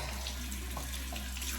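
Hot tap water runs steadily from a faucet, rinsing a part of a Navage nasal care machine in a sink; a continuous close, even splashing flow with no talk.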